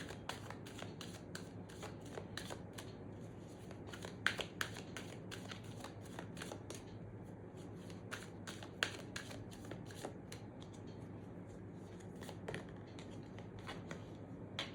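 Tarot cards are shuffled softly and steadily in a quiet room, making a run of quick riffling flicks and taps. The sound is faint and close.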